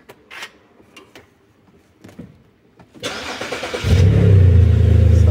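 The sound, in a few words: BMW 1 Series E87 car engine starting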